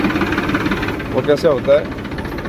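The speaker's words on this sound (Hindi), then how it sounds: "ट्रैक्टर चल रहे हैं यहाँ" Tractor and loader machine engines running at a cotton-seed cattle-feed factory, a steady mid-pitched rumbling idle with mechanical knocking throughout, while someone speaks briefly over it.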